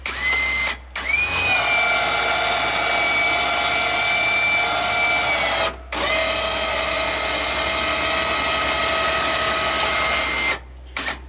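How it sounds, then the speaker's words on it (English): A winch on a Can-Am Defender Pro lifts a mounted Super Duty snow plow, giving off a loud, steady electric motor whine. The whine runs in long stretches and cuts out briefly twice between pulls. "Hooked up to the winch. It's now working."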